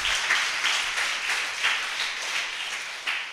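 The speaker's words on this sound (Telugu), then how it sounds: "చప్పట్లు కొడదాం గట్టిగా అందరూ" A church congregation at a Passover festival service clapping together, rhythmic waves of many hands beating in unison, fairly loud and filling the room.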